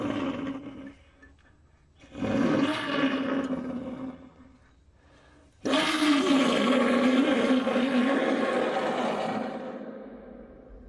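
A pututu conch shell trumpet imitates a feline roar, sounding two long, rough, echoing blasts separated by a short pause, the second louder and more sustained.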